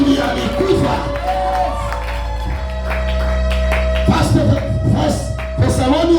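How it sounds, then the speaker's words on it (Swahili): A church congregation at a worship service clapping together for Jesus, a loud crowd with applause and cheering mixed with shouts and voices nearby, rising and falling in waves. "Pigia Yesu makofi."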